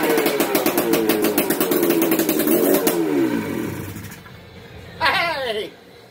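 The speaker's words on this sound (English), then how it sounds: "We have a running engine, guys." Affordaplane ultralight aircraft engine running with no muffler: a loud, rapid popping putter that settles and slows, then a brief rev, with voices nearby.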